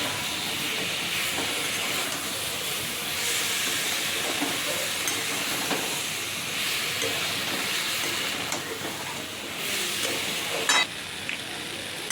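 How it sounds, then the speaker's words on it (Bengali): Bengali five-spice seeds and dried red chili frying in hot oil, a steady hissing sizzle heard close up with occasional soft stirring knocks. "আজকে আমি একটু তেলের ওপর 5 ফোড়ন, শুকনো লঙ্কা, আর এরপর এটা ভাজা হয়ে যাবে"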